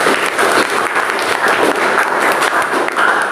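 A classroom of students claps together for a few seconds, a fairly close, steady burst of applause with no talking over it.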